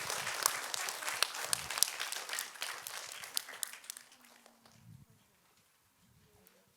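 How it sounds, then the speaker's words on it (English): Audience applause for a guest professor at a grade 5 school special speaker event, loud dense clapping for about four seconds before fading out, with voices chattering as it dies away. "Can we give Professor Yeo one last big applause for coming speaking to us?"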